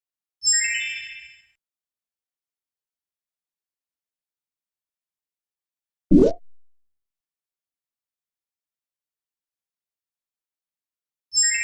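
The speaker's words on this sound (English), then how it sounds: "Click the bell when the toppings are just right." Chiming bell sound from a children's pizza-making addition game, a bright short ding at the start, a soft hollow plop in the middle and another ding at the end, each separated by long silences.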